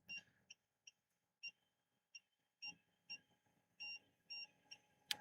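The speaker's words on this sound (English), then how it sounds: "Sorry about that beeping. That's going to be the power inverter that's powering everything." A power inverter running equipment during severe weather coverage emits short, sharp high-pitched beeps at irregular intervals, about a dozen in five seconds, faint and alone in a quiet room.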